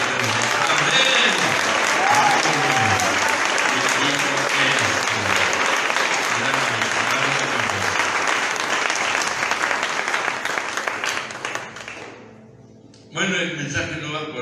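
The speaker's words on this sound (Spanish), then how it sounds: "Den el aplauso más fuerte al Eterno" A church congregation bursts into loud, sustained applause during a Palm Sunday sermon, the clapping roaring on for several seconds before fading, then picking up again under a speaking voice.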